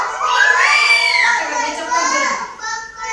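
A group of children mimics a hen's clucking in loud, close chorus. Their voices rise and fall in bursts for about three seconds.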